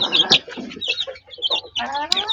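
Newly hatched chicks and grown chickens cluck and peep close by in a feeding coop, with overlapping bursts of clucking and high chirps.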